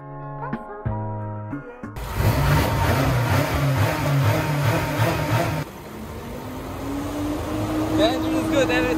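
A BMW M6 engine roars and revs loudly up close, holding a high rumble before easing and climbing again, with people talking at the start.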